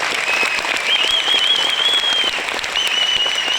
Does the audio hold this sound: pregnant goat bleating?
no